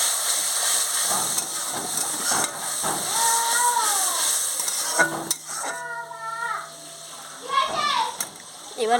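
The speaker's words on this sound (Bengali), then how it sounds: "দেখো আমার মাছের ঝোলটা পুরো ফুটে উঠেছে" Fish curry gravy of spices and water boils hard in a pan, giving a continuous bubbling hiss with occasional clinks of a utensil while someone talks over the cooking.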